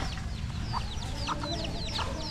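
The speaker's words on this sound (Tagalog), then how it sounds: "Ito talaga mga manok na to" Farmyard chickens cluck in repeated short bursts close by, with a steady low background rumble and no talking.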